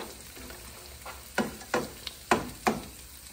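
Cranberries and filling for a stuffed pork loin frying in a pan, a soft steady sizzle broken by several sharp stirring scrapes in an irregular rhythm, close and clear with no talking.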